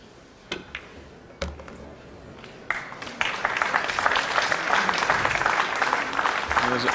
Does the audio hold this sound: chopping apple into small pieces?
no